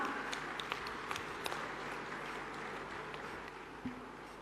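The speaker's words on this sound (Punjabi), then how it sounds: "ਤਾੜੀਆਂ ਇੰਨੀਆਂ ਹੋਣ ਕਿ ਮਹਿਲ ਤੋਂ ਬਾਅਦ ਦਿੱਲੀ ਤੱਕ ਜਾਣ" A large crowd at a political rally in Patiala applauding, a dense steady wash of clapping from a distance with a few sharper claps standing out.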